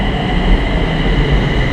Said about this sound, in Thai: เฮารอท่ารถไฟฟ้ามาก่อนนะทุกคนเนาะ